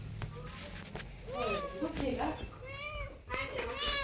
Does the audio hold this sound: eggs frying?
no